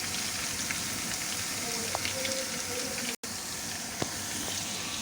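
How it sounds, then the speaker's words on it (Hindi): Ginger and garlic paste frying in a pan for beef keema pulao, a steady close sizzle and crackle running throughout, briefly cut by a short dropout midway. "हम इसको थोड़ा फ्राई करेंगे ताकि अदरक लहसुन का जो कच्चापन है वो ख़त्म हो जाए।"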